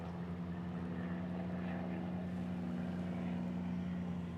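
A small Cessna propeller plane drones at Honolulu airport, a low steady hum that holds evenly and sounds moderately distant.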